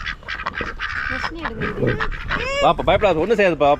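Ducks on a farm in Kodaikanal quack in short bursts as they run in toward people for food, heard under a man's close, continuous talk.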